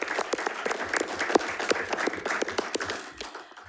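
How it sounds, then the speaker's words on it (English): At a Folsom Cordova Unified School District board meeting, a modest round of applause sounds from a small crowd, quiet and somewhat distant, with irregular claps that taper off near the end. "Let me go ahead and give her a little round of applause."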